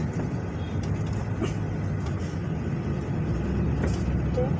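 Road traffic heard from the cab of an LPG delivery truck in Cavite, with a steady low engine rumble and brief hissing bursts of air brakes, close and continuous.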